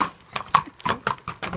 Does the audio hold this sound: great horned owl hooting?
no